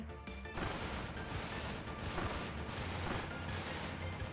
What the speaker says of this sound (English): I love the sound of multiple simultaneous explosions in the morning.